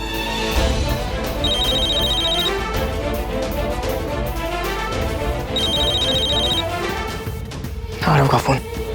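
A phone ringtone chimes in repeated electronic bursts over a busy, noisy background with voices and music, ending in a sharp rising sweep.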